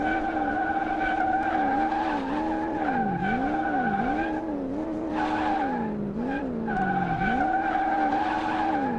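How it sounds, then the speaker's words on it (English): A Mustang with a V12 swap in a car-building video game drifts with its engine droning loudly, the pitch swooping up and down in repeated waves while tires squeal and skid continuously underneath. "See if we can do some like drifting around."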